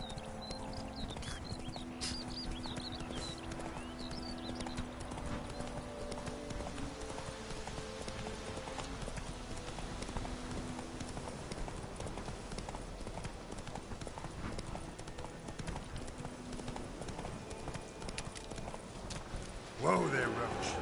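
Roach the horse's hooves clip-clop in a steady rhythm through The Witcher 3 game world, continuous and fairly close under ambient game sound, with voices talking in between.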